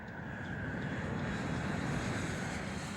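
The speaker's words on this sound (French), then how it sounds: "Moins d'une demi-heure après son décollage, le DC-10 endommagé revient vers l'aéroport de Détroit." A damaged DC-10 airliner flies back toward Detroit shortly after takeoff, its engines giving a steady, muffled broadband roar with airflow noise heard from within the aircraft, constant and unbroken for a few seconds.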